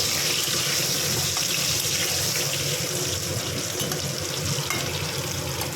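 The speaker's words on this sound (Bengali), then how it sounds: "এবার আলুগুলো ভেজে নিচ্ছি" Boiled potatoes fry in a wok of hot oil with a constant, loud, dense sizzle that holds even throughout.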